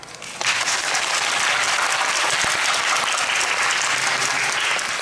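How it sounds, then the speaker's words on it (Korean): A musical theatre audience breaks into applause after a curtain-call greeting, starting abruptly and holding steady, dense and loud for several seconds. "여기 있는 모든 분들께 박수 한번 감히 부탁드리겠습니다."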